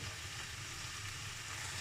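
Taro leaves (kachur shaak) with chickpeas fry in oil in a pan, giving a steady, close hiss of sizzling that runs unbroken throughout.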